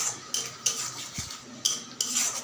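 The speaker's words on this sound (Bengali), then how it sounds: "এবার এই মশলাটাকে ভালোভাবে কষাবো" Metal spoon scraping and clinking in a pan while spice paste is stirred and sautéed for khichdi, a few sharp scrapes at steady intervals, close and fairly quiet, no talk.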